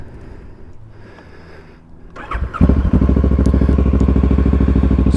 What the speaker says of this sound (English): I took my baffle out of my M4 and I kind of regret it. So if it's a little loud, I do apologize